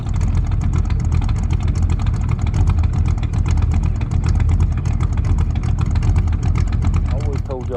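Car engine idling: a steady, low, rumbling idle with a constant pulsing throb, close and loud throughout with no revving.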